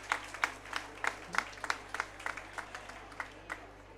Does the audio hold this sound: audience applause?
yes